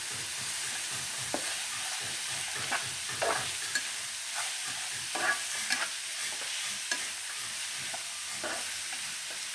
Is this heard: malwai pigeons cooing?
no